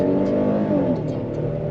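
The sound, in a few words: Hyundai Palisade SUV accelerating hard from a stop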